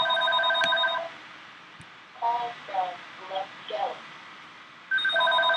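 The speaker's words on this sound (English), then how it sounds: "It was the house phone and I needed to get it." House telephone rings with electronic tonal trills, first a ring, then a gap with a few short chirping sounds, then another ring starting at the end.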